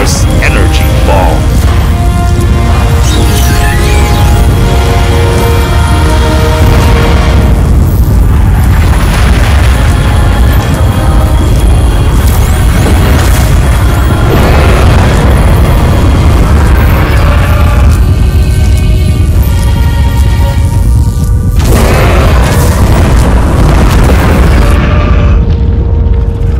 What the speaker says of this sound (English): That attack is much more powerful than the Gigantosaurus energy ball.